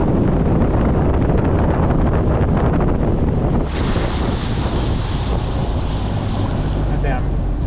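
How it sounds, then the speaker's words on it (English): Wind blows hard across an open stretch of water on a fishing outing, buffeting the microphone with a constant loud rush that eases slightly partway through, with water and boat noise underneath. "That damn wind's a little nippy"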